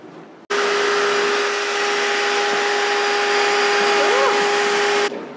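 Shop vac running steadily in a kitchen, a loud continuous motor whine with a strong steady tone, starting abruptly and cutting off near the end.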